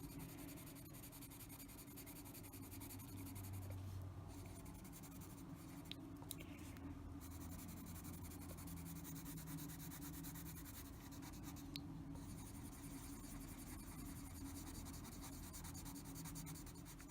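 Colored pencil rubbing steadily across paper in a close, faint, continuous scratchy texture, with a low background hum and no speech.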